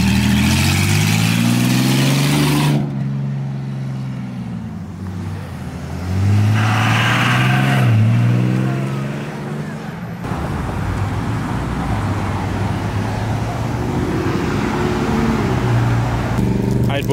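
A McLaren 620R supercar at an outdoor car show revs loudly with rising and falling engine pitch, repeated climbing acceleration sweeps over background traffic noise, close and powerful.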